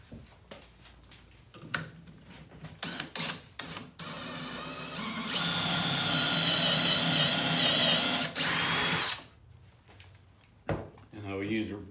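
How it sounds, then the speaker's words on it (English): A power drill whines at high speed for a few seconds, boring a pocket hole with a pocket-hole jig, preceded by clicks and handling knocks, then winds down to quieter tool noises. "drill a hole in, and then use pocket screws"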